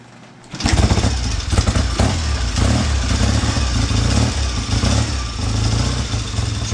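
A Triumph Daytona 500 motorcycle, not run for six months, fires up after kicks and settles into a loud, steady, rattling idle close by, running continuously to the end.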